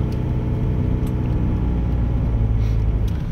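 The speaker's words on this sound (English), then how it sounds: "as you can see cars driving along the beach down here heading around" Cars drive along the sand of Rainbow Beach, Australia, giving a steady, loud low rumble of engines and tyres with a constant whirring drone throughout and no voices.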